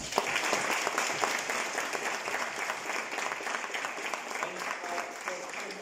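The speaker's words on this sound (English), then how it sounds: "I'd like you to clap for yourselves as students." Students clap for themselves at a STEM Racing team presentation, a steady, fairly even patter of many hands that holds for the whole stretch, moderately loud and close, with a faint voice or two mixed into the crowd noise.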